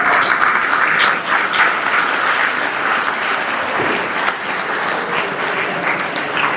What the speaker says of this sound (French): Je vous invite à les applaudir chaleureusement.